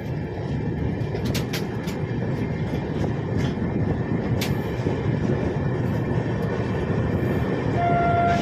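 The Howrah–Ahmedabad Superfast Express, an Indian passenger train, rumbles along steadily with continuous loud rolling noise and faint rail clatter, a brief whistle tone near the end.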